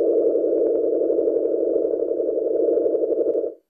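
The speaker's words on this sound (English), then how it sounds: "This is what the sun sounds like." Sonified resonant oscillations of the Sun, a steady low humming tone with a faint buzzy texture that holds for several seconds and then cuts off, alone and without voices.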